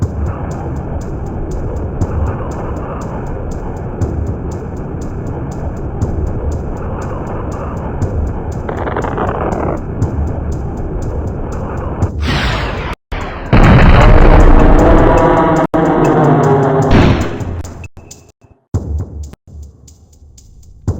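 Gunfire and explosive booms from an N64 game by Acclaim and Iguana, a steady layer of game sound effects broken by loud bursts and blasts in the second half, with no talking.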